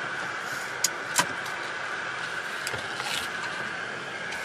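A car drives along with a steady road and engine hum heard from inside, broken by a couple of sharp clicks and no talking.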